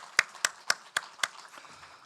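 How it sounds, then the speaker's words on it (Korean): A church congregation at a Sunday worship service clapping in five sharp, evenly spaced beats, fairly quiet and distant, then trailing off into faint room noise. "격려의 박수 다시 한번 하십시다"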